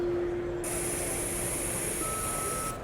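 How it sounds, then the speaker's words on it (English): Steady broadband hiss mixed with sustained pure sine tones, a low tone that later gives way to a higher one, with a piercing high whine joining partway through, constant and even throughout. "We've got the noise and the frequency."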